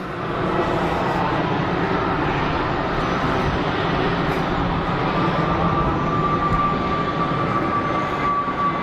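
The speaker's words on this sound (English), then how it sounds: "Rotate and climb out for the BA Airbus." British Airways Airbus jet rotating and climbing out from Geneva Airport, a steady, dense engine roar that stays loud and even throughout, with a thin high whine emerging in the latter half and no talk.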